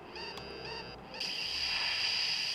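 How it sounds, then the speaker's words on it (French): Boss battle in Final Fantasy VII opens with a sudden electronic swell of bright, sustained tones that cuts in after a brief quieter stretch, moderately loud with no talking. "Ça c'était le bruit d'un combat de boss."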